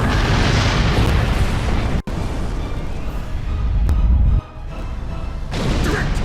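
Starship weapons strike and explode in Star Trek Online, producing loud, rumbling booms and a sharp crack with sustained roaring blasts that briefly drop away.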